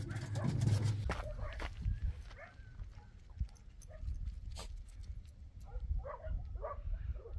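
A dog moves about close by at a ranch, with scratchy shuffles, brief whimpers and yelps, and some thumps and knocks scattered across several seconds.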